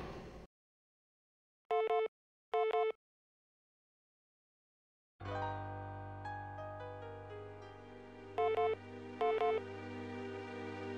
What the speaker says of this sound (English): Sounds like I got a message on the vid phone.